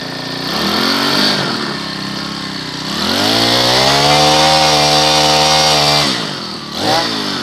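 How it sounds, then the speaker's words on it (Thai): Used Makita four-stroke brush cutter engine, backpack type, starts and runs loudly, settling into a steady buzzing idle then revving up and dropping back, with a brief surge near the end. "ตัวนี้เครื่องฟิตสตาร์ตติดง่ายเลยนะฮะ เดี๋ยวจะมาลองสตาร์ทดูนะฮะ"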